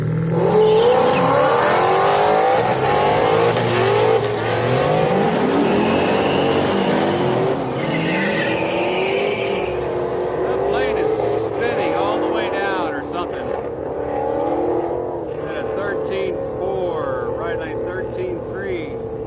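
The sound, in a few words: two BMW cars drag racing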